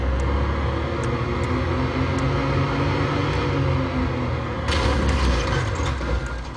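A car engine drives steadily along a road in a physics-based video game, a continuous mechanical rumble with gear-like whirring throughout and a brief rattling burst near the end; no talking.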